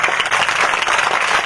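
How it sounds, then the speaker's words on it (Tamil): Audience applause at a ceremony honouring parents, a dense, even wash of many hands clapping throughout, fairly loud and without talk. "நல்லா கைத்தட்டலாம் ஜாலியா"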